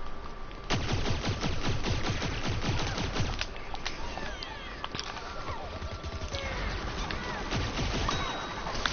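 Rapid bursts of weapon fire from the imp character in Plants vs Zombies: Garden Warfare 2 crackle densely and continuously, with sharp repeated shots and impacts layered over game sounds.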